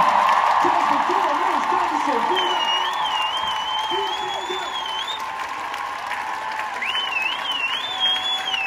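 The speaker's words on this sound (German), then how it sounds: "einen großen Applaus wieder einmal für das ganze Team" A concert crowd at a show in Berlin's Max-Schmeling-Halle applauds and cheers for the band and team, a dense, sustained roar of clapping with whoops and whistles running throughout.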